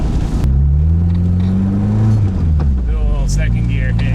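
Nissan Cefiro with a swapped K24 engine and turned-up boost accelerates hard, its loud rising engine note dropping as it shifts into second gear and then climbing again, with turbo whoosh over a close, steady drone.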